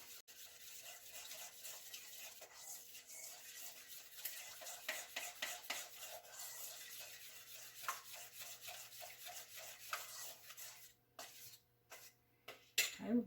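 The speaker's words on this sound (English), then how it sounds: "Stir it all up." Lemon meringue pie filling is stirred in a pot, with a continuous, fairly quiet scraping and swishing of a utensil moving through the thick mixture, closer clinks and scrapes near the end.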